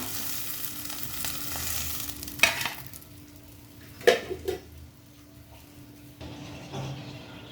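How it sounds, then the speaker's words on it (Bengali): Fish heads fry in oil in a pan with a low sizzle, punctuated by a few sharp clinks and scrapes of a utensil against the pan. "দেখো এই মাছের মাথাটাও ভাজা হয়ে গেছে, এইভাবে আমি সবকটা মাথায় ভেজে নেব।"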